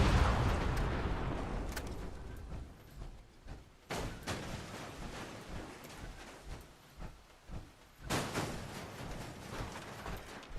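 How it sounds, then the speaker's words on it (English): Explosions in the video game Fallout 76 go off as a run of heavy booms and blasts, one after another, with a big eruption at the start and another burst near the end, with no talking. "I do think explosions are pretty."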